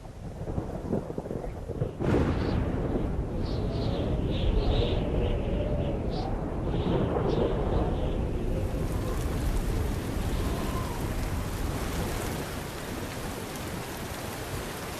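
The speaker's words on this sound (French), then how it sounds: "les orages peuvent arriver vite" A thunderstorm sweeps over the savanna in the dry season: steady heavy rain hisses throughout while deep thunder rolls and crackles loudly near the start and keeps rumbling beneath the downpour.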